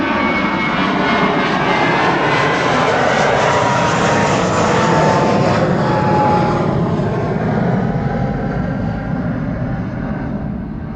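A Finnair Airbus A321 jet airliner roars loud and steady throughout, a broad, dense engine rush that swells slightly and then eases as the aircraft passes close by.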